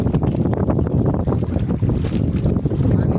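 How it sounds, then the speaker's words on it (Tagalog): Strong wind buffets and rumbles against the microphone, gusting continuously throughout, with a water-and-boat ambience underneath at sea before a night dive, and no talking. "Hangin."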